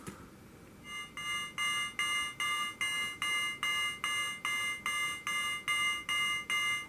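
A synthesizer shaped by an envelope generator pulses a bright, buzzy tone in rapid regular beeps, about two per second, over a steady hiss of background noise, like an alarm clock.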